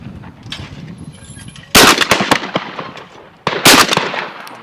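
Two loud shotgun blasts from a Webley & Scott XSP, spaced almost two seconds apart, each a sharp crack with a ringing outdoor tail, heard close over faint background noise.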